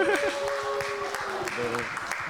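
Applause from a church congregation during a Korean Sunday worship service, with steady clapping running under a speaking voice.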